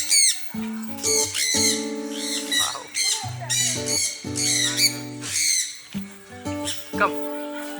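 Birds squawk and chirp repeatedly nearby in harsh, uneven bursts, mixed with people talking over them.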